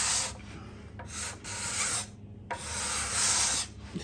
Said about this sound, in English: This is a card scraper.